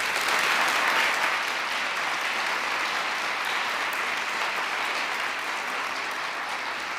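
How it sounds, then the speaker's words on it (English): A large audience at a peace oratorical contest claps steadily for the finalists, a dense, even wash of applause that holds for the whole stretch and fades only slightly toward the end. "let's give them all a round of applause."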